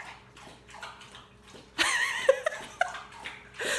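A dog laps water from its bowl at close range, a burst of wet splashing licks with a few sharp drips, following quieter indoor background sounds.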